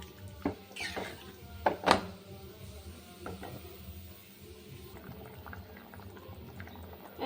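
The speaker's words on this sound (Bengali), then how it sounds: "হয়ে গেছে, আলু সিদ্ধ হয়ে গেছে।" Potatoes boil in water in a pot, giving a low continuous bubbling and seething, with a few sharper clinks and knocks early on. The sound is close and moderate in level, with no speech.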